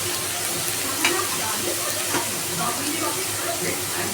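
Garlic paste, added with onion paste, fries in a pan with a loud, steady sizzle and hiss, broken by soft scraping and knocks as it is stirred.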